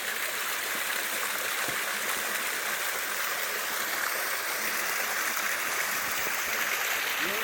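A waterfall and rushing stream in Snowdonia, a steady, close, full-bodied roar of flowing water that continues unbroken with no voices over it.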